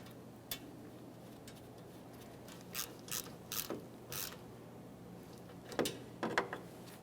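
A hand ratchet tightens a mounting nut on an AC line of a 2010–2013 Kia Forte Koup during condenser replacement. Faint, close clicks come in short scattered bursts over quiet background noise.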